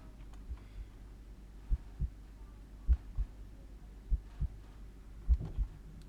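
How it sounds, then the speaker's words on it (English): Heartbeat effect from the horror game Do Not Take This Cat Home, with low, muffled double thumps repeating at a slow, steady pulse over a quiet hum. "You feel like you can hear your heartbeat."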